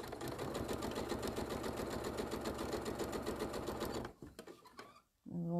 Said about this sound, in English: I just want to hold it there temporarily until I sew it in